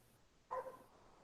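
A single short, muffled bark from a dog somewhere in a house, faint and a little distant against a quiet background.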